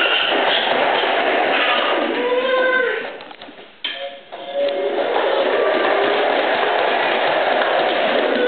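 A small ride-on train runs with a loud, steady mechanical whirring and rattling that briefly dips and stutters midway before resuming at full volume.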